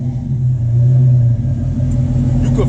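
Exhaust of a 2016 Ram Sport pickup truck revving slowly, a deep steady rumble swelling and easing off, loud and close, with a faint voice near the end.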